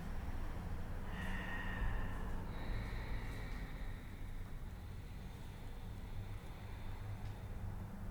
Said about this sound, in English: Ujjayi breath. Let your neighbor hear you breathing.